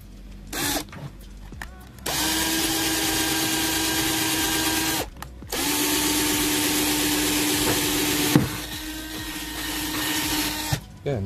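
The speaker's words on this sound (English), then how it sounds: "drill the hole" A power drill whines steadily in two long bursts while drilling a hole in a plastic container, with a short pause between, loud and close, with small clicks and handling noise around it.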